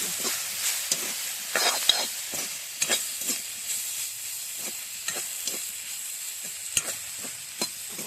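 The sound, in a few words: soybeans frying in hot oil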